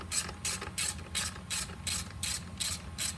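A hand ratchet clicks in about ten quick, evenly spaced bursts while tightening coil pack bolts on a 2002 Volkswagen Passat V6, close and clear with no talking.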